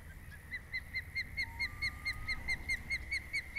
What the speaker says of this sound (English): It's like a seagull.